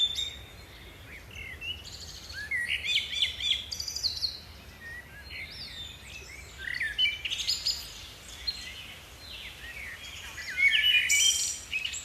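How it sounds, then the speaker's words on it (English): A small bird chirps from a nearby branch in bursts of bright, high tweets and trills, fairly close and clear over a quiet background with no voices. "A small bird chirped from a nearby branch, watching the scene with its bright, curious eyes."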